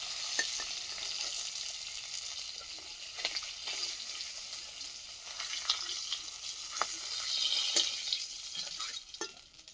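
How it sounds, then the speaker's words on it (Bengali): Stingray (shankar) fish pieces marinated in salt and turmeric frying in a pan, a steady bright hiss of hot oil with occasional sharper pops and clicks, close and without talk. "মাছটা ভাজাও হয়ে গেছে,"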